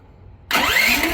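A Polaris Cyclone fitted with a swapped-in 420cc engine cranks and catches abruptly, then settles into a loud, steady run close by, with no talking.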